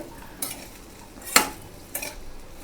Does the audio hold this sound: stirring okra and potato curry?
yes